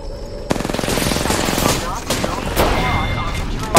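Rapid automatic gunfire in Apex Legends, a dense rattling burst of shots starting abruptly and continuing with overlapping fire and impacts, loud and close, with faint voices underneath.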